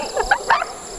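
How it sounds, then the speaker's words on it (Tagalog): Dogs bark in short yips along a road on a motorbike loop near Mayon, quick close calls repeated over a brief moment. "Try natin kung nandito pa itong mga aso na to."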